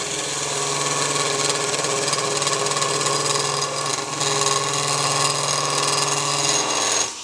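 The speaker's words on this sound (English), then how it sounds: "Now we'll slow the lathe down and use a skew, start in that heel cut" A steady mechanical hum of a spinning wood lathe, slowed down, with a scraping, chattering cut of a skew chisel against wood while turning a three-legged stool part, continuous and close.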